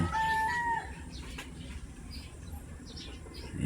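A Shamo gamefowl chicken makes a brief high, tonal call at the start, followed by faint scattered clucks and bird noises in a quiet farmyard, with soft low background rumble.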